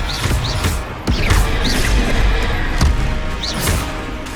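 Spell effects in the Hogwarts Legacy video game, a repeated casting of the Accio summoning spell: sharp whooshing bursts and thudding impacts recur every second or so over a dense, steady game soundscape.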